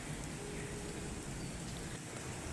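Steady rain falls around a rooftop under cloudy skies, a continuous dense patter and hiss at moderate level with no voices.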